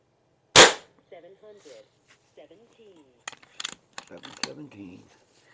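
An Aselkon MX7s subcompact bullpup .25 caliber air rifle fires a single sharp, loud crack, followed by quiet mechanical clicks and handling noises as the gun is worked, with faint talk in the background.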